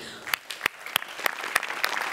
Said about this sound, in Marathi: आय थिंक आज त्यांच्यासाठी एकदा जोरदार टाळ्या